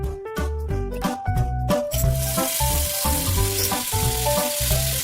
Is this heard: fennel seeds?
yes